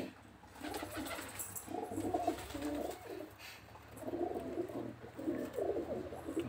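Pigeons coo in a breeding setup, their soft, repeated throaty calls rolling in overlapping waves at moderate, close range and carrying steadily throughout without pause.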